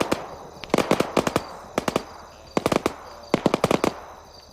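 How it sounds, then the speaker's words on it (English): Airsoft machine guns fire during a military simulation game in several rapid bursts of three to six sharp cracks, loud and close, separated by short pauses. "That's getting really annoying with the gunfire."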